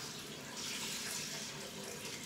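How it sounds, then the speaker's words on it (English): Water gushing from a tap into a filling bathtub, a steady close hiss and splash that runs without pause. "And her tub is about to get full."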